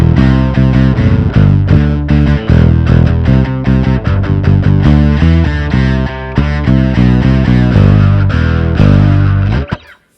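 Distorted electric guitar riff played through a bass effect pedal, loud and continuous with a thick low end, chords ringing out before cutting off at the end.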